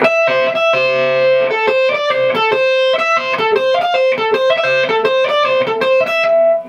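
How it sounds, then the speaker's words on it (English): A loud distorted electric guitar plays a fast riff of stepping notes in a repeating pattern, gritty and up close, alone without voices. "So the whole riff sounds like this."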